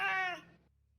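A house cat gives a single drawn-out meow, close and fairly loud, with a clear harmonic tone that fades quickly into quiet.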